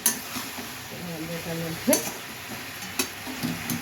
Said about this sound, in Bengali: মশলাটা কষে গেছে, সুন্দর একটা ভাজা মশলা কষে যাওয়া, সবজির সঙ্গে ভাজা হওয়ার যে গন্ধটা বেরিয়ে পড়েছে